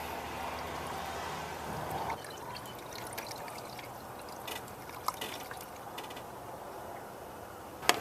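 Marvel Mystery Oil poured into the engine of a Dodge Charger during an oil change, a steady close trickling pour that tapers off after a couple of seconds into faint drips and small clinks.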